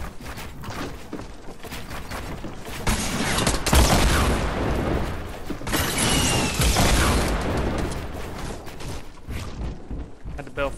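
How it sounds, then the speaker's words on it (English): Gunfire in a video game as the player comes under fire: dense bursts of shots and impacts swell loudly through the middle of the clip over a continuous busy game soundscape. "I was getting shot at."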